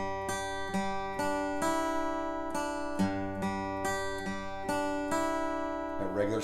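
Country guitar lick from a song, played at regular speed as a lesson demonstration: clear picked notes ringing over open strings, a steady phrase of about a dozen plucks with a little hop on the last note.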